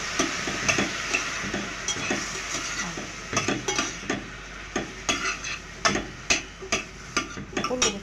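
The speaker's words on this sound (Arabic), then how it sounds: "كله بيتشوح مع بعض" Potatoes, carrots, onion, zucchini, peas and beans sautéing together in a pan, with a soft continuous sizzle and repeated scraping and clinking as a utensil stirs against the pan.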